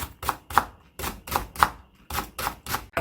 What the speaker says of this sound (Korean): 대파 반 개도 이렇게 송송 썰어줘